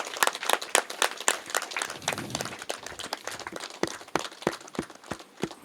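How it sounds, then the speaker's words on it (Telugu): An audience at a meditation yajna event at the Bhimakhanda Shaiva temple claps in scattered, irregular bursts. The sharp claps are spread through the room rather than in a dense roar, with a faint voice and shuffling in the background. "భీమకండ శైవక్షేత్ర ధ్యాన మహాయజ్ఞాన్ని గట్టిగా క్లాప్స్ చేసుకుందాం"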